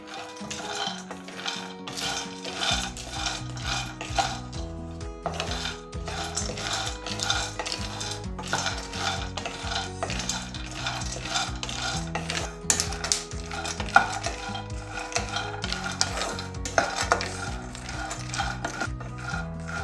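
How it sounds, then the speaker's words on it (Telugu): Cashews, almonds, pistachios and pumpkin seeds dry roast slowly in a pan over medium heat. Close, irregular clinks and scrapes of stirring run throughout over steady background music. "క్యాష్యూ నట్స్, బాదం, పిస్తా, పంకిన్ సీడ్స్ అన్నీ వేసేసి మీడియంలో పెట్టుకొని స్లోగా డ్రై రోస్ట్ చేయాలి"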